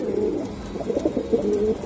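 Kamagar pigeons cooing close by, a run of soft, throaty warbling coos repeating steadily with no talk.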